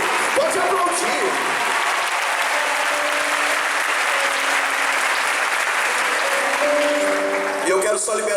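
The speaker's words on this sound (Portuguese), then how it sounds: "Pode aplaudir, pode aplaudir, pode aplaudir, pode aplaudir." A church congregation bursts into sustained, loud applause during a worship service, an even roar of clapping lasting the whole stretch, with some voices and cheering mixed in near the start and end.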